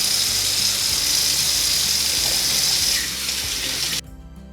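Tap water pours steadily into a sink while canning jars are rinsed, a close, continuous hiss and splash that softens near the end and then cuts off abruptly when the faucet is shut.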